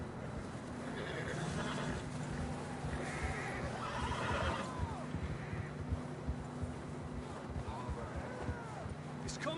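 Horses whinny and neigh in the Red Dead Redemption 2 western game, loud calls rising over steady clip-clop hooves and a rumbling outdoor background, with voices talking alongside.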